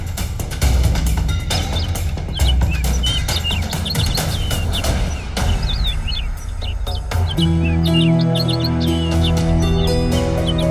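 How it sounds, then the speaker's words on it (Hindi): Small bird chirping with quick, bright tweets over a dense, busy background of music and rumble, steady and fairly loud throughout. "ये चिड़िया बहुत देर से आपको आगाह करने की कोशिश कर रही थी"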